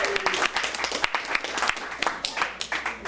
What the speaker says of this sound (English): Please give the Green Door a big round of applause for you.